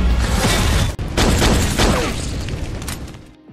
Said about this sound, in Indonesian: terjadilah ledakan di dekat Julius dan istrinya